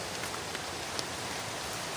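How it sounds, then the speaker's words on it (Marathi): Rain falls outdoors by a stream during a day of heavy rain. The soft, even hiss of the rainfall is quiet and steady, with occasional faint drop ticks. "दिवसभर खूप पाऊस आहे सुरू"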